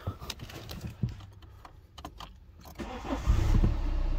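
A BMW F11 project car starts up and idles, its engine catching after cranking and settling into a steady low rumble that grows louder toward the end, with faint birdsong outside.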